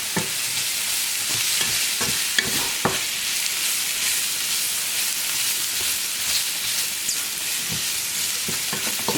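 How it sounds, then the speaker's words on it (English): Mushrooms brown in a frying pan for creamy chicken Marsala, a steady close sizzle broken by occasional sharp scrapes and taps of stirring. "So we're just going to get these in here, brown these up nice."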